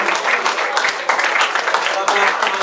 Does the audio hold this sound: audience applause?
yes